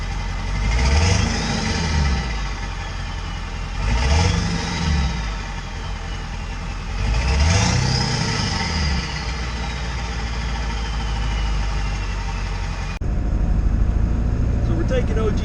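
A Ford 7.3 Powerstroke diesel truck engine idles, then revs three times in rising and falling swells before settling into a steady rumble, heard close up with no talk.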